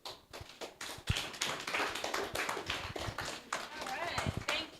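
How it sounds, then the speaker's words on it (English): A seminar audience at a high-school educational event claps in a dense, continuous round of applause, sharp overlapping hand slaps filling the room with voices mixed in. "a louder round of applause for Sophia"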